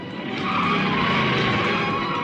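Cartoon motorcycles skid away in a loud, continuous screech of tires and engine that swells in the first half second and holds steady to the end, with no talk over it.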